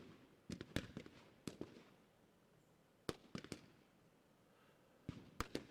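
Artillery fire in the tactical war game Lock 'n Load Tactical Digital comes in sharp, distant-sounding cracking bursts, clustered explosions separated by short quiet gaps over a faint background.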